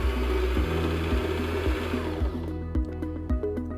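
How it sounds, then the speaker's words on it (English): A SINGER M3400 sewing machine motor whirs steadily as it winds a bobbin, a close, continuous mechanical drone with a rhythmic pulsing that stops and restarts in short bursts toward the end. "step on the foot control to begin winding"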